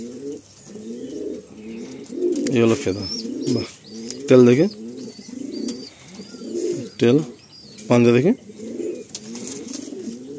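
Pigeons kept for sale coo repeatedly up close in soft, rolling throaty calls, with a few sharper chirps among them, while people talk over them.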